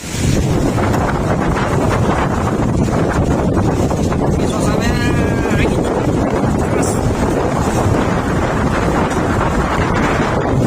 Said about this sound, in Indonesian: Anginnya kuat, kencang sekali teman-teman.